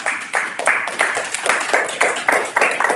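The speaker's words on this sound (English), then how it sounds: "Isn't it interesting how, as she announced me, I started to applaud along with you" Audience applause at a Sunday afternoon open mic, a steady spread of clapping in uneven bursts that swells and dips over a few seconds, with no clear talk on top.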